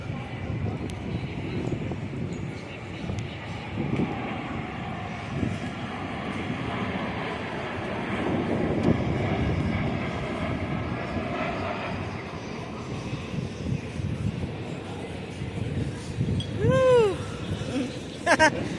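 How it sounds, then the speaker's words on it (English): An airplane drones overhead in Washington, D.C., a broad steady roar that swells and fades, with people talking over it. "Oh, airplane coming."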